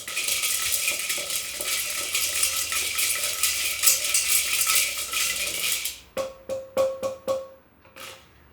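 Okra being stirred in a heated pan for a Maharashtrian bhindi stir-fry: a steady bright sizzle for about six seconds, then a handful of distinct scraping and clinking utensil strokes against the pan, fairly close and loud, with no talking.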